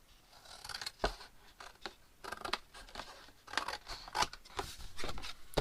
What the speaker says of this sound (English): So I'm going to cut off the edges on this one.